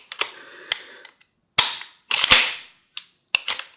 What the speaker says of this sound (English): We have the tin-coated shell lifter, shell carrier. It's bringing up and down nicely.